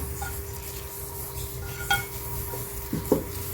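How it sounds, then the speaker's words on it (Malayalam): Cooked food being moved into another pot in a home kitchen, heard as a few faint metallic clinks and scrapes of a utensil against the vessel over a low steady background hum. "ഇത് വേറൊരു പാത്രത്തിലേക്ക് മാറ്റാം"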